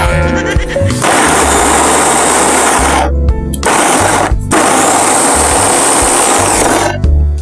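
Electric food chopper crushing onions; a loud, close, continuous motor whir with grinding texture, cut by two brief pauses and stopping near the end, no talk.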